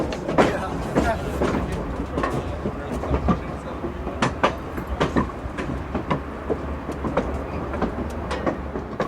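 Steam locomotive 2472 pulling a train through Niles Canyon, wheels beating a steady clickety-clack of sharp rail joint clicks over a low rumble, close and fairly loud, with voices talking alongside.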